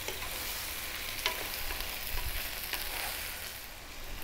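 Sausages and spices such as paprika, chili, oregano and cumin sizzle steadily in a pot while being stirred, giving an even frying hiss with occasional soft scrapes and clinks; no talk.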